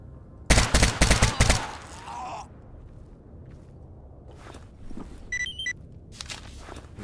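A loud, rapid burst of automatic gunfire in the survival shooter STALKER GAMMA lasts about a second, followed by quieter footsteps, faint shuffling and a few brief clinks of gear.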